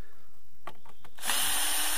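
A power drill drives a self-tapping screw into wood during concrete foundation formwork, a few short trigger blips then a loud sustained whir, close up.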